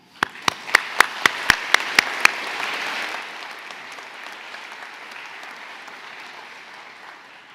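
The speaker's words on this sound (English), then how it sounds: "Let's give them a hand" Applause from the audience at the UCSF School of Pharmacy white coat ceremony at Herbst Theater opens with a few sharp nearby claps, then builds into dense sustained clapping that slowly eases off.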